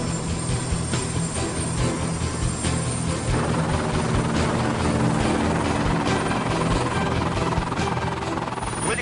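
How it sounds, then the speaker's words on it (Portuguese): A helicopter taxis along a runway in São Paulo, its engine and rotor making a loud, steady, close whine and thrum that carries on without a break. "O helicóptero tem que fazer todo esse procedimento aqui de seguir a pista?"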